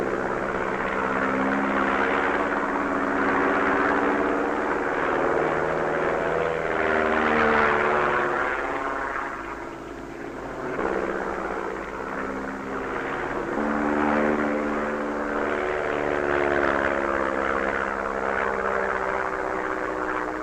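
A propeller airplane performing aerobatic manoeuvres such as rolls and recoveries at Saint-Yan in 1964, its engine droning steadily and loudly throughout, with the pitch rising and falling as it turns and a brief dip in level midway.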